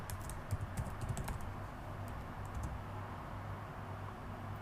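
Password being typed on a computer keyboard during an operating system install, a quick run of close, light key clicks with brief pauses, no talking.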